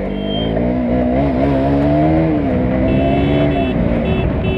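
A motorcycle engine hums loudly close by, its pitch rising and falling as the throttle is worked in short revs.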